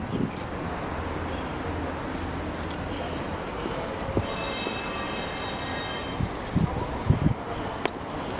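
A Moscow tram on route B, near Kursky railway station, rumbling along the rails nearby, with wheels squealing and a steady mechanical drone, and faint voices in the background.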